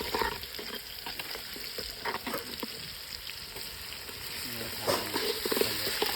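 Green garlic and ginger-garlic paste sizzle in a hot frying pan, with a steady hiss broken by scraping stirring strokes, while a voice talks quietly over the cooking.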